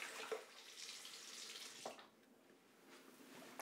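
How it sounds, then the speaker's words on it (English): Tap water runs into a bathroom sink as a man rinses shave cream off his face, a steady broadband splash with a few brief louder splashes, close and without talk. "let me rinse off real quick"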